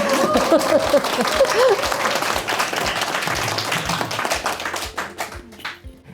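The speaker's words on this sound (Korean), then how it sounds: "이럴 때 박수 막 치시더라고요" An audience claps at a book concert, a burst of steady applause that thins and fades out toward the end, with a brief voice at the start.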